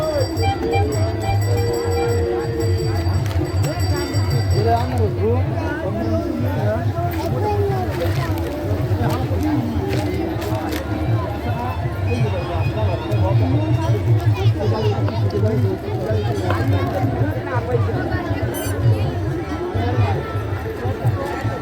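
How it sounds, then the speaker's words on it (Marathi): A dense evening crowd fills the Davaleshwar Mahadev temple fair at Mahashivratri with steady babble and chatter, with a voice talking nearby throughout. "आणि संध्याकाळी आता 5 वाजले तरी गर्दी बघा तुम्ही किती"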